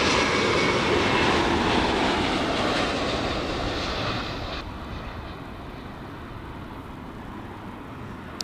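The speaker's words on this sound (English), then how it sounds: "A330 Neo coming in" A TAP Air Portugal Airbus A330neo arriving at LAX roars loudly at first as a broad jet rush, then its engine noise thins and drops to a quieter steady rumble as it passes.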